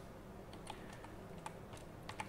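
Scattered keystrokes on a computer keyboard as a terminal command is typed, a handful of light, crisp clicks at irregular intervals over a quiet background hum.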